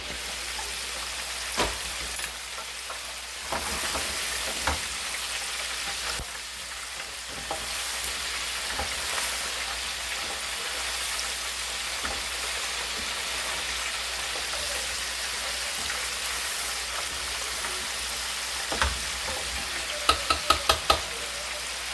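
Rib meat frying on a Blade GSX griddle gives a steady, moderate sizzle that runs unbroken throughout, with occasional soft pops and a few sharp clicks near the end, and no voices.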